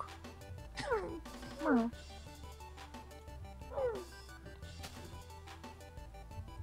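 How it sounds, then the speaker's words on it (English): A dog in the Minecraft video game lets out a few short, high whimpering whines in separate bursts over a steady low background hum, with game sounds around it. "Your dog's outside."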